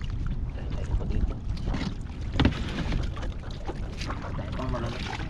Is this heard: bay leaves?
no